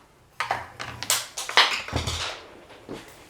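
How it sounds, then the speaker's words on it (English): Light scattered taps and rustles as small paper scraps drop out of a die-cutting machine onto a surface, a few irregular soft impacts up close. "I'm sure you can hear all the stuff falling out."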